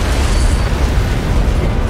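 Antimatter charge detonating aboard a ship in the Halo CE video game, a loud, dense, sustained rumbling roar with no break, heavy low end and constant intensity throughout.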